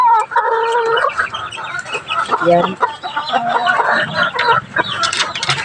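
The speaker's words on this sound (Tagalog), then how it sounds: "Daming manok." Many chickens clucking and squawking close by while being fed, a busy continuous flock chatter with a brief spoken word among them.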